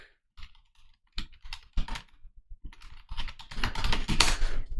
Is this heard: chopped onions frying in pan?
no